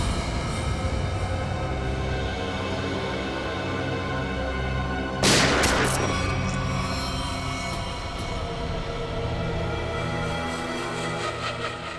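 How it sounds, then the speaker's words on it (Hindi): A single sharp gunshot cracks out midway through a steady rumbling, train-like background hum, loud and close, then the drone continues. "गोली चलाओ उस पर"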